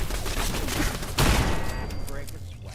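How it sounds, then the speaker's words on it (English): An explosive-round turret in Fallout 4 fires in a loud burst of blasts, its booming report tailing off over the next second or so, with a voice talking underneath. "that was a turret that had explosive rounds"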